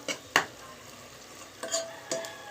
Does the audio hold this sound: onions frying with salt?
yes